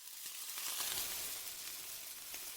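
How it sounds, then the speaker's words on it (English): Steady crackling sizzle of chicken frying in hot oil, a dense hiss with scattered pops, moderately loud and continuous, no voices. "You pause on sizzling chicken."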